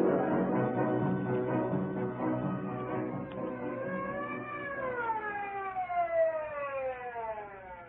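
An ambulance siren in a radio drama sound effect, wailing up and down in rising and falling sweeps, fairly faint and growing more distinct as it arrives, with no other sound.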